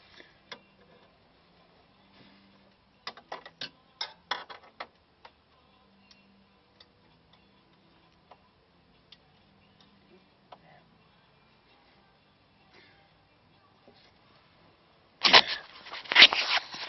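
Metal wrench clicks and ratchets on a bolt while working on a motorhome, sparse taps through the first half, then a loud close burst of clattering at the end.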